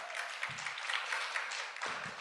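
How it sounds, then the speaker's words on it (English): Audience applause at a legislative symposium panel on police accountability, a steady broadband wash of clapping across the whole stretch, fairly even in level with brief low-pitched bumps. "Clap it up for him, please."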